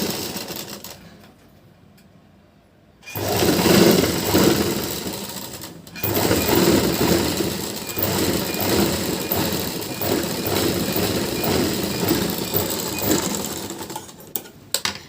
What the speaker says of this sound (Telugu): ఎందుకంటే హెమ్మింగ్ కోసం ఫస్ట్ ఇలా కుట్టుకోవాలి